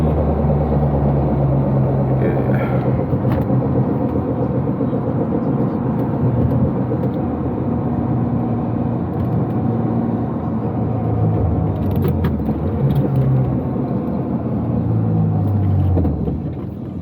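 A built BMW E36 M3 race car pulls hard from inside the cabin. A steady, heavy engine drone rises and falls in pitch through the gears and stays loud and unbroken the whole time.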